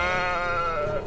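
A single sheep bleats close and loud, one sustained wavering cry lasting about a second with no talk over it.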